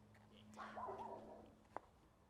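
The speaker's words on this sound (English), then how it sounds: "See, even the dogs want you to bid." A dog at a suburban property auction gives a short whimpering bark, then a sharp faint yelp, both quiet and slightly distant over low background hum.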